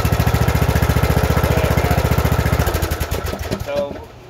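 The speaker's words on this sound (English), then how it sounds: "That's no choke on the engine whatsoever, sitting at idle." A cold Briggs & Stratton small engine idles with no choke, chugging in a steady, fast, even rhythm up close, then loses its beat and sputters unevenly before dying away near the end.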